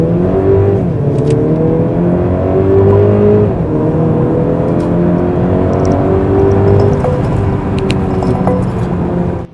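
A Mercedes-Benz C300 engine and exhaust rev repeatedly, a loud, close rising and falling drone as the revs climb and drop over and over, heard alone without talk.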